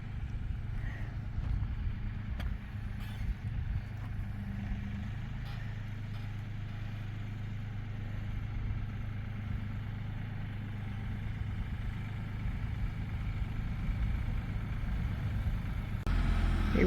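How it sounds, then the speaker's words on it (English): A truck engine idling and creeping along as it brings a trailer over, a steady low hum at moderate distance that swells slightly toward the end, with no speech. "So he's gonna bring the trailer over here."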